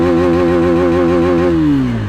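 A KTM Duke 250 motorcycle fitted with an X3 kit exhaust idles loud and close in a steady, throbbing hum. Its pitch sags lower over the last half second, and no one speaks.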